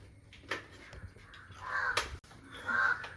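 Crows caw repeatedly outdoors, a few harsh calls at moderate distance in an irregular rhythm, with no talking.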